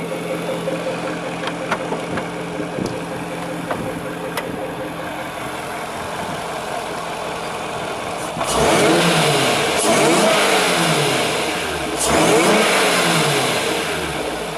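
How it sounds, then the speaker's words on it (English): Supercharged 4.0 litre Jaguar XJR engine fitted in a 1966 Jaguar S-type idles steadily, then revs up hard twice, each rise loud and close with a throaty swell before dropping back. "Give it a bit of a rev."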